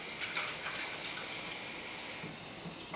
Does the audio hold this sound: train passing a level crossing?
no